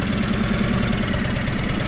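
A 2023 Indian Sport Chief motorcycle engine idles steadily nearby, giving a continuous, even, throbbing rumble with no speech.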